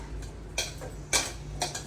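Dishes and cooking utensils clink and clatter as they are gathered for washing after a home meal, a few short metallic knocks spaced apart at moderate distance, with no talking.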